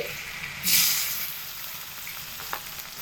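Dry red chillies, whole cumin, bay leaf, garlic paste and chopped onion go into hot oil, setting off a brief louder hiss that settles into a steady, moderate frying sound with a small clink near the end.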